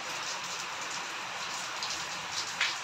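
Light rain falls steadily on a rooftop, making an even, close hiss with a few sharper drops standing out near the end.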